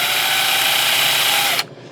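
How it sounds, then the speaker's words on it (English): A handheld drill boring a small hole into the flat part of a fishing bait, a loud, steady high-pitched whine that runs close to the microphone for about a second and a half before stopping abruptly. "I'm going to just quick drill 2 holes on the flat part of the bait."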